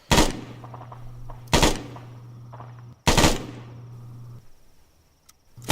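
Machine gun fire in the Arma 3 video game, three loud close bursts spaced evenly, each ringing out into a decaying tail before quiet.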